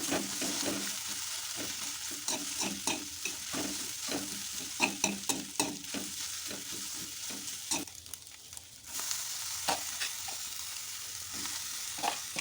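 Egg frying in a hot pan as it is stirred and mixed into koththu, a steady sizzle broken by repeated scraping, clattering stirs close by, with no voices.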